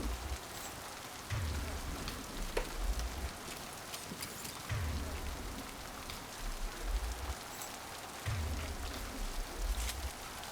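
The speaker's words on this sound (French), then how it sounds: "Sous une pluie battante, avec même un peu d'éclairs et de foudre." Heavy rain in the video game Mass Effect 2 pours steadily with a dense hiss, while low thunder rumbles roll in at intervals, deep and booming beneath the downpour.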